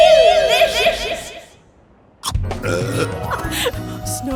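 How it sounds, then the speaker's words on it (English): A loud, deep cartoon burp follows a snow snack on a snowy mountain, rising out of a brief silence after a bright musical passage, with chuckles and playful voices around it. "Snow burps."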